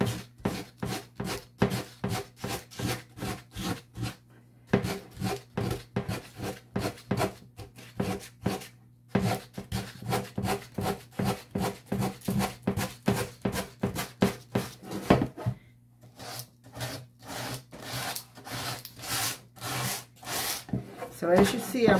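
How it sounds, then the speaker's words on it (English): Rhythmic rasping strokes of sandpaper on a paper edge over a wooden board repeat closely and steadily, pausing briefly before resuming at a quicker pace. "I'm sanding toward the edge"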